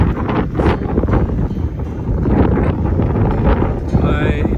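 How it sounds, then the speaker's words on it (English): Strong wind buffets a motorcycle rider's microphone on a Moto Guzzi crossing Canada, producing a loud, steady roaring rush with gusty surges throughout. "We've been fighting the wind all the way here"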